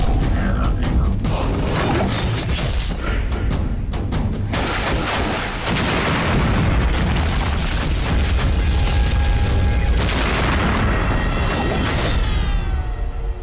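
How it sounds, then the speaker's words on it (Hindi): A powerful weapon in a cartoon fires off a big, booming explosion effect that fills the whole stretch with dense, rumbling roar and crackling bursts, loud and continuous to the end. "मेरे पास एक ऐसी चीज है जो बड़ा धमाका करती है।"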